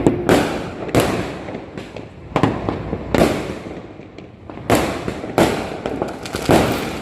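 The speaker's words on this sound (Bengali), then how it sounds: "শুধু বাজি পটকার আওয়াজটা শোনা যাচ্ছে" New Year's firecrackers burst in a loud, irregular string of sharp cracks and crackling pops, some close and some farther off, with no talking.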